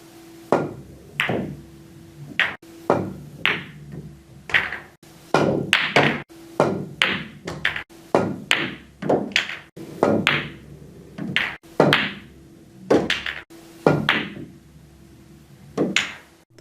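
Billiard balls are struck with a cue in a series of aim drill shots on a pool table, giving a steady sequence of sharp clacks, each followed by softer ball contacts, repeating about every second at moderate level.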